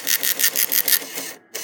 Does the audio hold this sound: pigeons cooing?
no